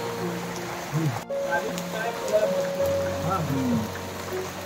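Steady rain pours over a Konkan village during the monsoon, a dense hiss of drops hitting surfaces, with faint tonal sounds and distant activity mixed in throughout.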